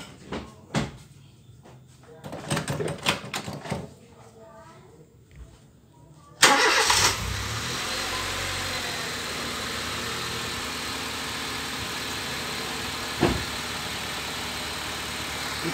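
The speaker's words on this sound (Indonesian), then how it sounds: "Bunyikan mesinnya dulu." A car engine cranks and catches at about six seconds, then settles into a steady idle during a radiator-cleaning experiment with cola versus water; voices speak before it starts, and a brief knock sounds later.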